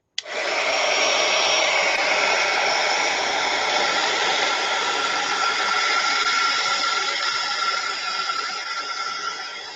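A hair dryer blows steadily on a watercolor pet portrait, starting abruptly and holding a loud, even whoosh with a high whine, close to the microphone and without talk.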